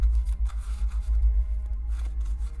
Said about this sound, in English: I'll give this a couple more shuffles